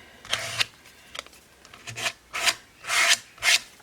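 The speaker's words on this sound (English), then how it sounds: "So I'm just going to just scrape that all over my page" Thick medium being scraped across an art journal page, heard as a series of close, rasping strokes, about five or six pulses of varying length with brief pauses between them, no talking.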